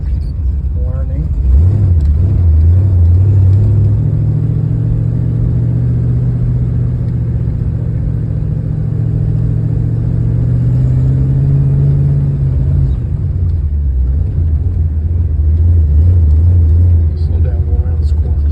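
A 1957 Chevy Bel Air with a manual transmission drives along, its engine a loud, steady low drone that climbs in pitch, holds, then drops as gears shift; voices talk over the engine throughout.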